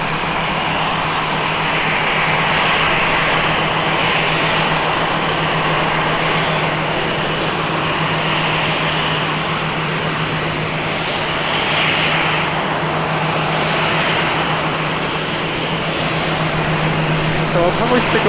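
A fixed-wing airplane at Portland airport roars steadily with a droning engine for the whole stretch, loud and continuous, with someone talking over it.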